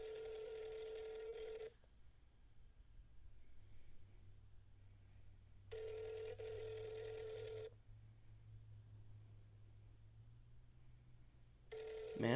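A telephone rings over a speakerphone line in steady, evenly spaced bursts of electronic ringing with quiet gaps between them, heard faintly and alone.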